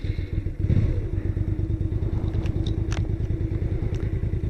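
A motorcycle engine pulses steadily during a ride along a river on a warm day, a close, continuous throaty rumble with light rattling and wind noise over it.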